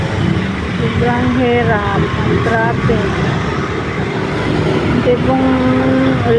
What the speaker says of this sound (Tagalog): Ganito pa rin ka-traffic sa Commonwealth.